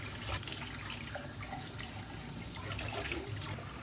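Tap water runs steadily into a sink while Ninja cold press juicer parts are rinsed, a close, continuous splashing flow with no talking.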